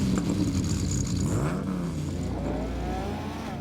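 A Lamborghini Revuelto's V12 engine revs and climbs in pitch, then eases off into a smoother, rising whine that fades slightly toward the end, heard clearly with no talking.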